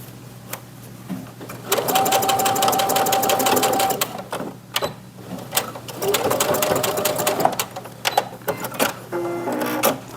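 A sewing machine stitches a pillow or zipper pouch in two long, loud bursts of steady rapid whirring with short pauses and quieter handling sounds between them.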